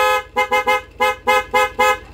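Loud, close motorcycle horn on a Yamaha NMAX, a Bosch Strider horn, honked in quick repeated bursts, a series of short beeps with a brief pause in the middle of the pattern.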